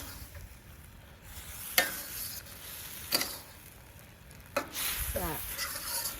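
Beef stir-frying in a Cuisinart outdoor wok for Hong Kong style tomato beef, a steady sizzle broken by sharp scraping clanks of the spatula against the pan at a few spaced moments, close and fairly loud.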